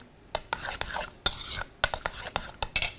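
A spoon stirs buckwheat pancake batter, a gluten-free mix, in a bowl, making quick, close, repeated scraping and wet slapping strokes in an irregular rhythm.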